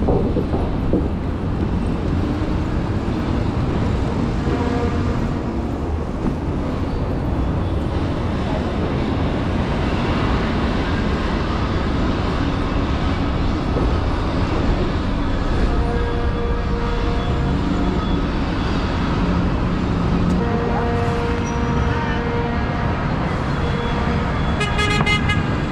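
Loud, dense traffic on a noisy town street: a constant roar of cars and trucks with repeated horn toots throughout, heard close up and with no clear talk.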